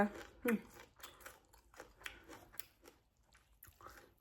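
Crunchy bites and chewing of Thai papaya salad with crispy pork and mixed greens, heard close up as irregular crisp crackles and soft mastication with quiet pauses, and a brief voice near the start.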